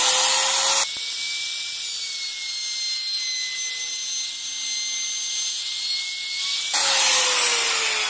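A Makita trimmer router cuts a rebate along a wood panel with a steady high, whining buzz. Its pitch shifts slightly as the cut begins and ends.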